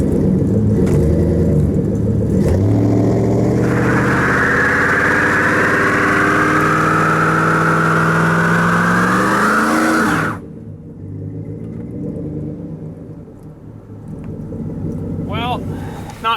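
An old GMC Sierra truck engine drones loudly while driving, its tone climbing steadily as it pulls harder, then drops abruptly to a quieter, low rumble.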